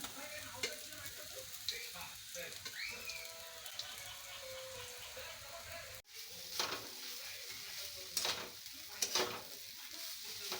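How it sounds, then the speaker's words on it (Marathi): Coconut being roasted in a pan with onion and garlic gives a steady low sizzle with scraping stir strokes, sharper clinks near the end, and no talk. "तर आपण आता त्यामध्ये खोबरं घालूया आणि खोबरं पण भाजून घेऊया"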